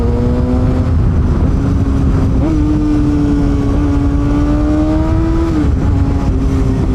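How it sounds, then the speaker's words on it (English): Kawasaki ZX6R 600cc sport bike with a new aftermarket exhaust and flashed ECU, revving loudly and steadily nearby, its pitch climbing, holding, then briefly dropping and rising again. "Oh, it sounds awesome with this new exhaust."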